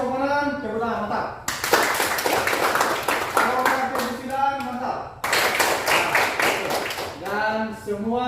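A group of students in a class claps hands together in two bursts of brisk rhythmic clapping, each lasting a few seconds, with a teacher talking before, between and after.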